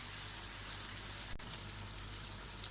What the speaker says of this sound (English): Add kebabs one by one. Cook on low flame for 3 to 4 minutes each side.